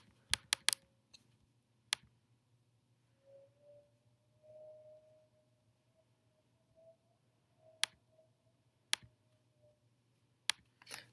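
Scattered keystrokes and clicks on a computer keyboard, quiet and close, arrive in short isolated bursts over a low steady hum with long gaps between presses.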